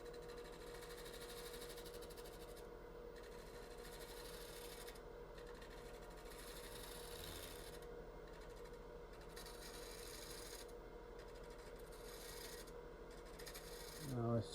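Wood lathe spinning a winged bowl at about 700 to 800 rpm while a tool barely touches the surface, giving a faint, steady whirring hum with a soft scraping texture throughout.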